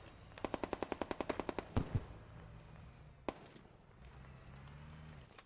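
A BTR's mounted machine gun in a video game fires a rapid burst of about a dozen evenly spaced shots, followed by a couple of heavier booms and a lone later crack, with quieter game ambience between.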